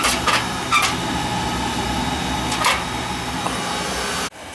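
A Beckett oil burner runs with a steady, loud broadband roar and hum, a few faint clicks over it, before cutting off abruptly near the end.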